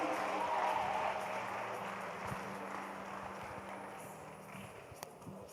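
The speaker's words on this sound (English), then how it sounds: "Let's give her a huge round of applause" An audience at a youth empowerment event applauds a psychologist guest with a long, steady wash of clapping from a crowd that gradually fades slightly.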